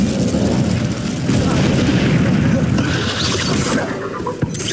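Incendio fire spell cast in the Hogwarts Legacy video game: dense, continuous booming whooshes and crackling bursts of magical combat, with a sharp hit near the end.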